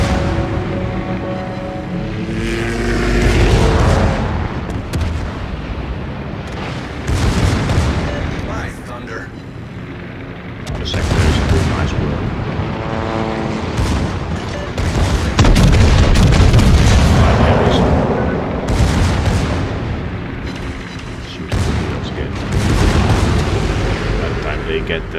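Heavy naval guns of the battleship Gneisenau firing in a video game, several loud deep booming salvos spaced a few seconds apart, with rumbling aftermath between blasts and someone talking over parts of it.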